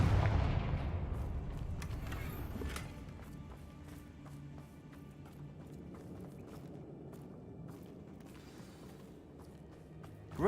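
A Confringo fire curse spell blasts in a video game, opening with a loud, booming burst that fades into a lower rumble and then scattered faint clicks and taps.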